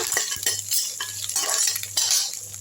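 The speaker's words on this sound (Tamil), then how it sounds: "இது எல்லாத்தையும் நல்லா வதக்கி விட்டுருங்க" Coriander seeds, dried red chillies, curry leaves and a piece of ginger being sautéed in a pan for a tender-coconut chicken gravy, with rhythmic metal spoon scrapes and clinks over a light sizzle, close and fairly loud.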